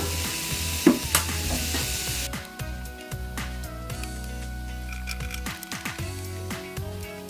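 Ground beef sizzling steadily in a cast iron pan for chili soup, a continuous crackling fry with occasional scrapes and clinks of a utensil, no talking.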